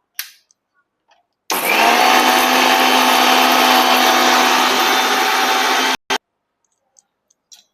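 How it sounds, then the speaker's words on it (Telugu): A mixer grinder whirs loudly and steadily for about four and a half seconds while grinding roasted red chilies into chili powder, then stops abruptly and gives one short final burst, with near silence before and after. "మిక్సీ వేయటం."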